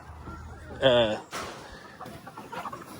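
Chickens cluck and squawk in a brief loud burst near the microphone, followed by rustling and softer clucks as the birds are chased by a dog named Cassie; a person speaks briefly.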